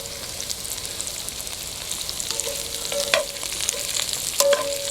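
Onions cut into half moons frying in a pan with mushrooms, a steady close sizzle with occasional stirring clinks, no talk.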